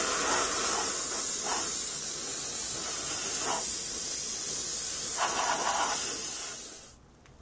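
An airbrush or spray can lays a protective coat of Future floor wax over a model Mk 1 British tank, giving a steady close hiss with a few brief surges before it cuts off abruptly near the end.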